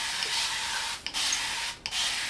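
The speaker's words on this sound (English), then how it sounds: "I'm gonna go ahead and get my spray bottle with water," A spray bottle filled with water mists a honey blonde curly human-hair wig in several hissing bursts, with two brief pauses between squirts, close and steady.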